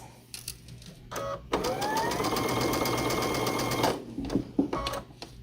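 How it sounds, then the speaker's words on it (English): A sewing machine stitches a quilt block in one steady run of about two and a half seconds, close and fairly loud, with quieter handling clicks and fabric shuffling before and after. "And then we will sew this in place."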